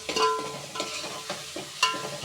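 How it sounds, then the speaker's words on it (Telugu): Chicken hits hot oil with onion and ginger, giving a close sizzle and frying crackle broken by repeated scraping and stirring of a utensil in the pan. "చూడండి చికెన్ వేస్తున్నారు."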